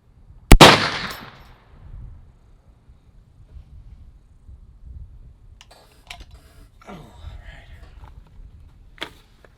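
A single sharp, loud rifle shot from a .450 Bushmaster cracks near the start and rings out briefly. Quieter clicks and handling noises of the rifle follow in an otherwise calm outdoor setting.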